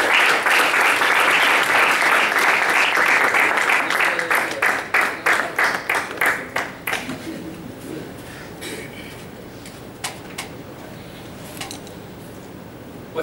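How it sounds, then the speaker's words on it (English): An audience at a Toastmasters meeting applauds loudly and densely, then the clapping thins to a few scattered, spaced claps that fade out toward the end. "With a thunders of applause, Toastmaster Sayyid Ahmed, Persuade."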